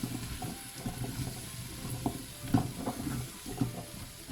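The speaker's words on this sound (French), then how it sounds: "Je mélange." Mild curry mixture being stirred in a Cookeo multicooker, soft scraping and clinking of a spoon against the pot in irregular strokes over a faint sizzle, close and quiet with no talking.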